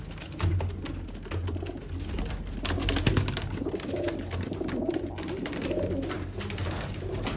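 Sialkoti pigeons coo in low, repeated throaty calls close by, overlapping one another, with flutters and scratchy movement sounds around them.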